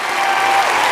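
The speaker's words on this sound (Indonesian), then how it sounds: "Tepuk tangan sekali lagi boleh?" Audience applause at a live SPR48 election event, a brief burst of many hands clapping, loud and close, filling the moment without any voices over it.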